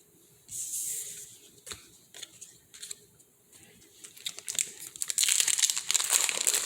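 A Magic: The Gathering War of the Spark booster pack is torn open by hand, with crinkly foil crackles and sharp rips. These come up close in irregular bursts and grow louder and busier toward the end.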